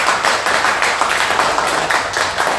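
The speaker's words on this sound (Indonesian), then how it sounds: "tepuk tangan buat kita semua." Steady, dense applause from an audience, a continuous wash of many hands clapping at fairly high level with no pauses.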